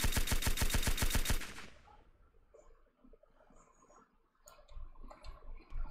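Rapid fully automatic gunfire from a weapon in the zombie survival game Surroundead, a fast steady burst of loud shots lasting over a second, then a quieter stretch of game ambience and scattered noises.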